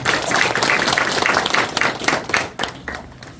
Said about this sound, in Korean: 다시 한번 유욱 부원장님께 큰 박수 부탁드리겠습니다